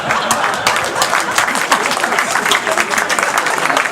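Audience applause at a post-match event in Senegal colours, a dense, even patter of many hands clapping, loud and sustained for the whole stretch.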